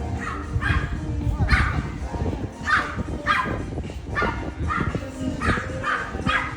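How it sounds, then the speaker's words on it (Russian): Several dogs bark repeatedly in a rhythmic series near a seaside promenade in Sochi, loud over steady outdoor background noise. "Собаки, блин."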